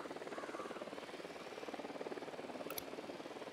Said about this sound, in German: Da nähert sich ein Helikopter.